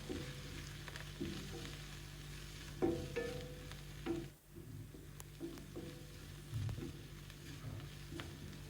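Pumpkin seasoned with garam masala and amchur powder fries in a pan, with a steady low sizzle under repeated scraping and stirring strokes and a brief lull partway through.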